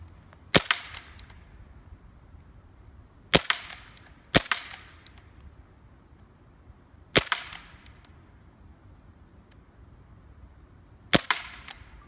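A Benjamin Wildfire PCP air rifle fires five sharp shots on semi-automatic at irregular intervals, aimed at a target 20 yards away. The shots are crisp and close, with quiet between them and no speech.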